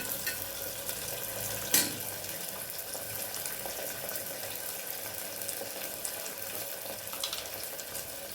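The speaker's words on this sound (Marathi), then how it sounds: "हे छान हलवून घ्यायचे आपल्याला तेलामध्ये वटाणे पण छान परतून घ्यायचे" Fresh shelled green peas fry in oil, giving a soft, steady, faint sizzle, with one brief clink of a utensil against the pan near the start.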